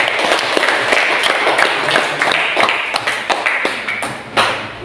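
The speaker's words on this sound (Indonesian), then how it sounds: "beri tepuk tangan kepada kelompok 2 dan 4" Students in a religious education classroom applaud groups 2 and 4, giving scattered, uneven clapping with individual sharp claps standing out from a small group, close by and fading slightly toward the end.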